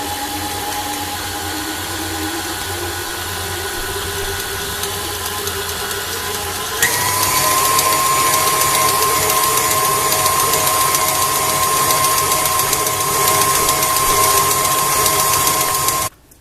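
Stand mixer with a paddle attachment working flour, yeast and buttermilk: a steady motor whine that steps up to a louder, higher speed partway through, runs evenly and close, then cuts off abruptly at the end.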